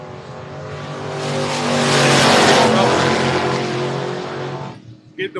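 A Malibu and a Mustang drag race side by side at a bracket event, their engines screaming in a loud, rising roar that peaks and fades as the cars charge away, ending in a few sharp bursts.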